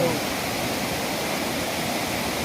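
Floodwater from heavy monsoon rain rushes steadily beneath a village bridge in a flood-hit area, a loud, unbroken roar of churning water that fills the whole stretch with no pauses.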